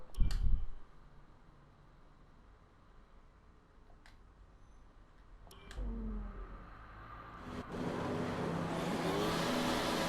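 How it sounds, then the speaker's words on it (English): F1 car engines in the F1 2019 racing game at Monaco, revving at the race start: a sharp burst at first, then a low idle that swells into a loud sustained high-revving roar toward the end. "Reaching maximum revs."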